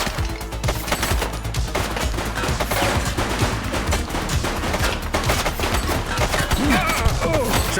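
Rapid bursts of gunfire from the police video game The Precinct, loud and dense automatic shots in a continuous barrage with crashing impacts and layered effects.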